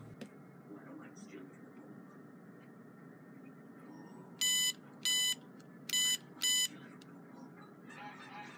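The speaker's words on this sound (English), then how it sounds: "the red LED and buzzer gets activated every time the two magnets are connected and completing a circuit" Four short electronic buzzer bursts from an Arduino water bowl level monitor in a quick, evenly spaced series, loud and distinct over a faint steady background hum.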